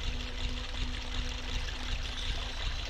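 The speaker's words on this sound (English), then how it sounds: "It is a terrifying waterfall." Waterfall in the Water Temple of The Legend of Zelda: Ocarina of Time, a steady rushing and pouring water roar with a faint low hum beneath, continuous and moderately quiet.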